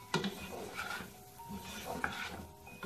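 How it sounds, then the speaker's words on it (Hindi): Vegetables for fried rice being mixed in a pan, a few scraping stirs and clinks of a utensil against metal over a faint sizzle, close and fairly quiet. "अच्छी तरह से मिक्स करेंगे इनको"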